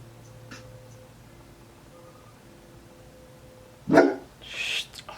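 A dog gives a single loud, close bark, followed by a quieter trailing sound in an otherwise quiet room with a faint hum.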